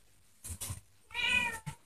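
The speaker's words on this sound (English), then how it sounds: "Oh, more cats are here up here." Several cats meow close by, with two quick short calls followed by a longer drawn-out meow and a brief final chirp, with no talking.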